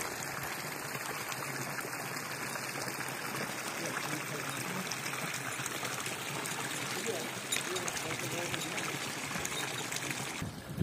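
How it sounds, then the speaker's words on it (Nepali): Water runs steadily through a small irrigation channel in a Himalayan village in Mustang, Nepal, a continuous close trickling and gurgling flow at moderate level throughout. "यहाँ चाहिँ बस्तीमा जता पनि यस्तो सानो सानो कुलो हुन्छ"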